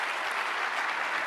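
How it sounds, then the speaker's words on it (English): Steady applause from a conference audience greeting the chairman at the IAAPA Expo 2019 kickoff event, dense and even throughout with no voices over it. "please, a round of applause for our chairman, Amanda Thompson."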